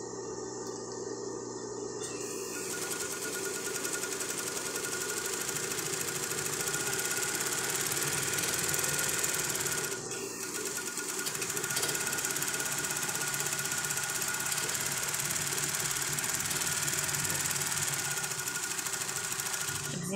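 A sewing machine stitches a satin lingerie set, a close, continuous rapid mechanical whir with a brief pause near the ten-second mark before it runs on steadily.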